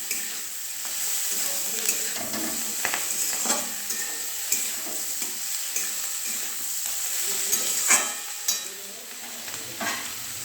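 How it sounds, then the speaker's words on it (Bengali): Palak spinach frying in a pan with turmeric and salt, a steady close sizzle with stirring scrapes and occasional clinks of a utensil against the pan, no talk. "দেখো এবারে পালক শাকগুলো দিচ্ছি।"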